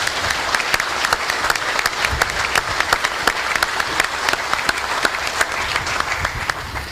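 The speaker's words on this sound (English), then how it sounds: "Please, a round of applause for General Rudd." An audience at a SOCPAC military change of command ceremony claps steadily, with dense, sustained applause from a crowd throughout.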